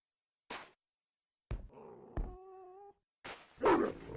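Dogs in the survival video game SurvivalCraft growl and yelp in short separate bursts with gaps of silence between them, one call carrying a steady whining tone, the last burst loud and close.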